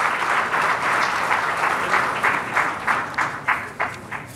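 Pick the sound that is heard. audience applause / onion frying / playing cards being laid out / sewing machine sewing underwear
audience applause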